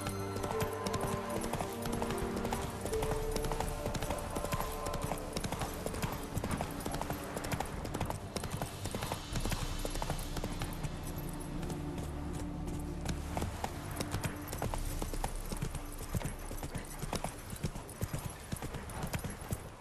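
A horse gallops in The Witcher 3: Wild Hunt, its hooves beating a fast, continuous clip-clop rhythm close by, with a brief spoken command.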